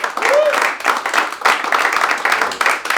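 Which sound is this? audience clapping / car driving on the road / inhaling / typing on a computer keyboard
audience clapping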